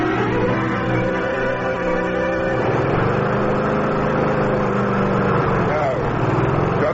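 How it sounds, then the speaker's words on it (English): Lawn mower running steadily outdoors, a continuous droning engine hum throughout, with a voice talking over it partway through. "They're just mowing the lawn, Mr. Hardy."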